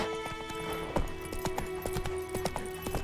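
Horse hooves in The Witcher video game beat out a quick, rhythmic clip-clop close by, over a steady tonal background with no talk.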